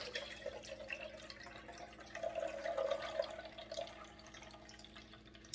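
Juice pouring from a Nama juicer, a soft, steady trickling stream with light dripping, fairly quiet and swelling slightly in the middle before easing off.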